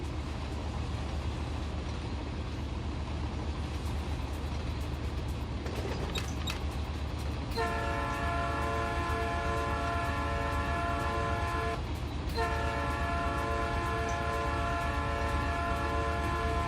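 A Norfolk Southern train in Run 8 Train Simulator rumbles steadily, then sounds a long, loud horn blast, pauses briefly and sounds the horn again over the low rolling drone of the consist.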